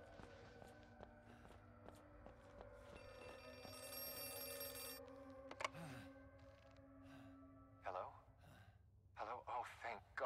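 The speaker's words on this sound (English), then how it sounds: "Is that a phone?" A telephone rings repeatedly in a steady electronic bell pattern inside the horror game Outlast 2, joined by footsteps and sighs and gasps, with talk later in the stretch.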